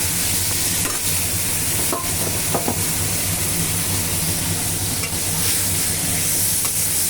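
Elephant foot yam and spices frying with onion in a pan for a fish curry, a loud, close, continuous sizzle with a few stirring scrapes and knocks, no voices.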